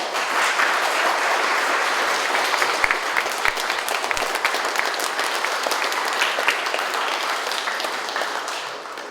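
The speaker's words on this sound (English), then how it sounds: "give Derek a real round of applause" An audience at a West Oakland community meeting applauds, dense steady clapping that fills the room and slowly thins toward the end.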